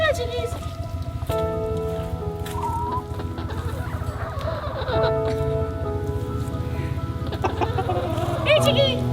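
Backyard chickens clucking and calling close by, mixed with a steady patter like rain on a surface, while a person talks to the birds throughout.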